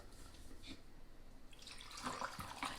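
Sweet tea splashes as it is poured into a tumbler, a soft close liquid trickle that grows fuller and brighter toward the end, with a few small clinks.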